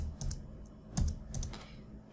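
A computer keyboard is typed on in a short, quiet run of a few distinct keystrokes, close by with no talk.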